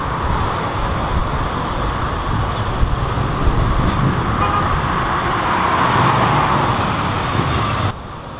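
Steady roadway traffic at a bus station in Athens, cars and larger vehicles rumbling continuously at moderate distance, loud and unbroken for most of the stretch before dropping slightly near the end; no talk.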